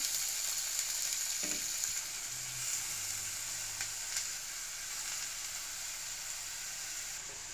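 Chopped onions and spinach frying in oil in a pan, a steady bright sizzle running throughout with a few soft stirring scrapes, fairly quiet and with no voices.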